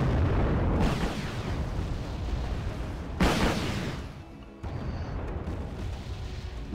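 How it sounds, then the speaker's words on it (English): Anti-aircraft gunfire in the video game Wargame Red Dragon, heavy booming bursts with rumbling blasts, one sharp loud burst midway, continuous battle noise, no talking. "Ah, the anti-aircraft guns."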